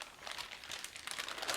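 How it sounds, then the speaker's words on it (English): Thick resealable Mylar filament storage bags being handled, giving a continuous faint crackling crinkle up close with no voices. "some resealable bags to store filament in, these Mylar bags"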